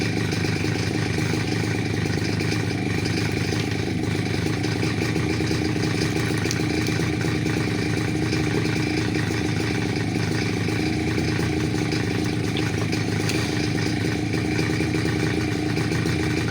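A Kawasaki Ninja motorcycle engine idles steadily and loudly close by, a continuous even rumble with no clear revving and no talk.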